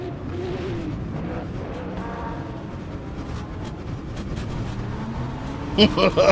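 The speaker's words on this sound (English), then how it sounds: "Major wreck." Racing cars roar and grind through a major multi-car wreck in the Le Mans Ultimate sim racing game, a dense engine rumble with sharp impact bangs clustered near the end, while a commentator talks over it.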